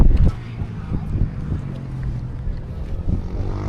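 A cold morning wind at an outdoor secondhand market buffets the microphone with a steady low rumble and occasional gusts, while faint voices are heard in the background.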